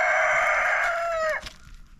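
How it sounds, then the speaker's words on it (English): One rooster on an off-grid homestead crows loudly and close, a long strained call that bends downward at the end, followed by quieter faint farmyard sounds. "You want any of these roosters?"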